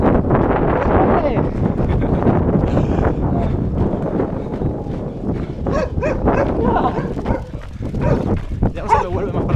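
A dog barks on a steep descent of a circular mountain trail, the barks mixed with steady wind noise over the microphone and people talking nearby throughout.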